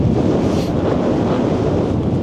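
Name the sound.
strong wind on the coast, wind noise on the microphone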